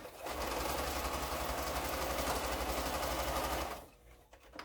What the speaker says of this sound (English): So I'll take that to the machine.